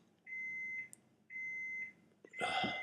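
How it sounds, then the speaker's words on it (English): Two sustained electronic beeps of the same pitch sound in succession, followed by a louder, noisy burst at the end. "the beeping's killing me"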